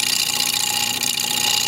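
A half-inch chisel cuts a spinning walnut blank on a wood lathe, giving a steady, loud, continuous scraping hiss with a constant motor hum beneath, unbroken for the whole stretch.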